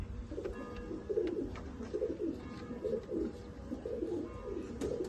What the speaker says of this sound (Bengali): দারুণ পায়রা